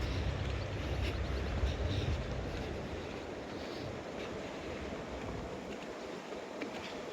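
The Bear River rapids in Petoskey, Michigan, rush in a steady broadband roar of flowing water, fairly faint and continuous, with some wind buffeting the microphone.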